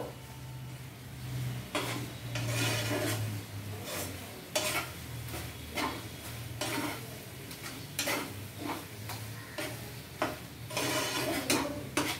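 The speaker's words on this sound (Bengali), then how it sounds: "আবার সমস্ত উপকরণগুলো ভালোভাবে নেড়ে দেওয়া হলো" A shrimp and ground-ingredient mixture being stirred in a pan for sheem chingri bata, with regular spatula scrapes over a soft sizzle and a low background hum, close by and alone.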